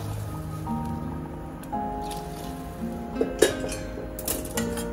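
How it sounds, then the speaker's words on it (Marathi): Hot water splashes into a pot of masala rice and mixed vegetables sautéed in oil, a steady wet trickle with a few small drip-like knocks, close and moderately loud. "आता हा गरम पाणी मी टाकत आहे, याच्यावर सोडत आहे गरम पाणी"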